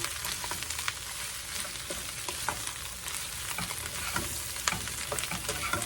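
Seasoned cabbage with black pepper and salt is tossed in a frying pan, a continuous close sizzle broken by repeated scraping and stirring clicks, with no voices.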